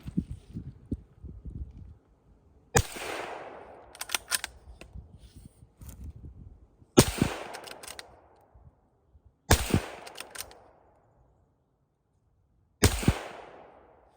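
A Ruger Precision .22 Magnum rifle fires five sharp, separate shots spaced a few seconds apart. Each shot is loud and close and trails off in a short echo, with quieter handling noise in between.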